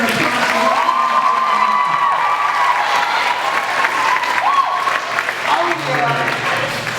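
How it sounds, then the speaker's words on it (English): An audience in a school chapel bursts into sustained applause with a few whoops and cheers. The clapping is steady and dense, and some voices carry over it. "And so let's give Mr. Smith a big round of applause."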